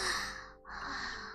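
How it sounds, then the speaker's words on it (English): A yawn: a long breathy exhale that dips briefly and resumes, close and soft, with no words spoken. "I'm actually yawning right now."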